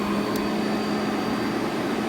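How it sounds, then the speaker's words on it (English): A carpet cleaning machine's vacuum runs with a steady, loud, broadband whine and hum, unbroken and close, with no talk over it. "it's going to lift the vacuum up"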